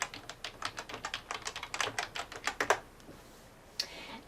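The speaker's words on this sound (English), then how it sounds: "you want to type in the URL" A computer keyboard clatters under quick, uneven keystrokes as a web address is typed in. The typing is close and crisp, then pauses before a final single tap.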